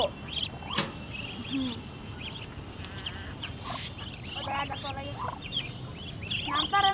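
Ducks and other fowl call in a busy flock, with scattered quacks, clucks and chirps overlapping at a moderate, steady level.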